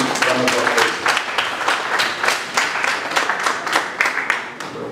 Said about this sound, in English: welcome her again with a resounding round of applause